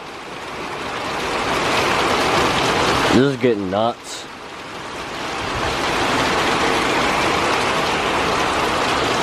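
Strong wind roars in a loud, continuous rush outdoors by a quarry during a rainstorm, with someone briefly speaking partway through before the gusting noise swells back.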